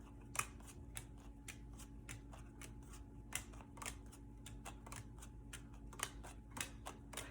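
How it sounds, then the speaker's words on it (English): Playing cards for Lost Cities being dealt out one by one, a string of quiet, crisp snaps and flicks at an irregular steady pace, close by over a low background hum. "So I'm gonna deal out 8 cards."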